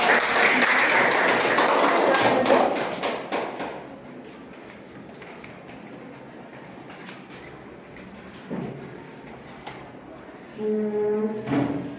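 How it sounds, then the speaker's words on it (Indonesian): A classroom of students applauds a student group, a dense burst of clapping for about three seconds that fades into quiet room noise with scattered knocks and a brief voice. "berikan aplaus kepada kelompok"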